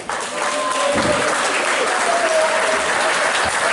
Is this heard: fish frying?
no